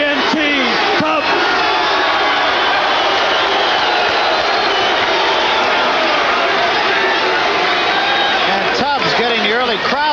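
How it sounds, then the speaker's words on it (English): A boxing arena crowd cheering before a heavyweight title bout, a loud, sustained roar of voices filling the hall, with a commentator talking over it. "Getting the early crowd support here"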